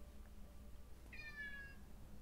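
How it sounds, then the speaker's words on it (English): A cat in a Hunger Games film gives a single clear, rising-and-falling meow partway through, heard over a low steady background hum. "Oh, the cat."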